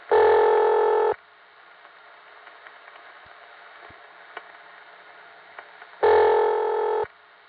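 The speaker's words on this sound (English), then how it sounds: "this is the old Warwick step ring" An old Warwick step-by-step exchange ringback tone sounds as two loud, steady buzzing bursts about five seconds apart, with faint line hiss and small clicks between them.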